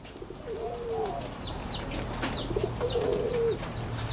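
A newly caged spotted dove (terkukur) gives several soft, mellow coos in two phrases, with a possible brief flutter of wings between them, close by over a steady background hiss with chirps from other birds.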